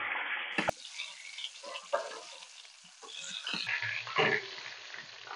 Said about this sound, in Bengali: পটলটা ভাজতে শুরু করছি, তেলটা গরম হয়ে গেছে।